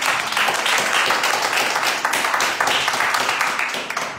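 Congregation applauding in a French-speaking church service, loud, dense and sustained clapping from many hands filling the space without any talk.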